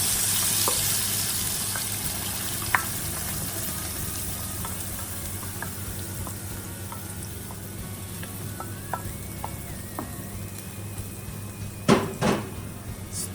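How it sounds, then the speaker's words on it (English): Curry paste and cooking oil fry and are stirred in a frying pan over medium heat, a steady close sizzle with scattered light clicks and a couple of louder scrapes near the end. "Heat the frying pan over medium heat. Add the vegetable oils or cooking oils."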